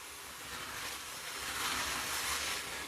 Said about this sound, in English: I'm diffusing real quick